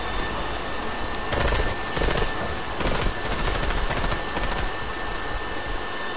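Rapid bursts of automatic gunfire in a shooter video game crackle in several clustered volleys, loud and sharp, with no talking over them.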